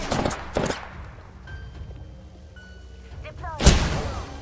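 Gunfire in the Apex Legends video game: a couple of sharp bursts at the start, quieter scattered shots in the middle and a loud close blast near the end, with voices talking during the clip.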